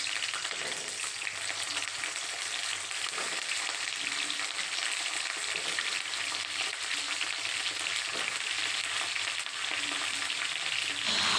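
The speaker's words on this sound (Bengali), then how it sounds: "কড়াইয়ে দিলাম সর্ষের তেল, দিয়ে দিলাম তার মধ্যে ফুলকপিকে ভাজতে।" Cauliflower pieces fry in mustard oil in a wok, giving a loud, continuous sizzle with faint stirring and crackle throughout, with no voices.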